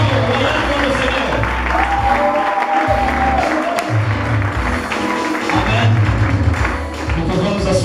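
A church congregation applauds and cheers in acclaim during a French-language worship service, a steady loud wash of clapping and crowd noise with musical tones underneath throughout.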